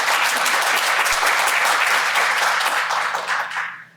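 A studio audience breaks into sustained applause greeting guest Dr. Judith Joseph, dense and loud clapping from many hands that tapers off at the very end.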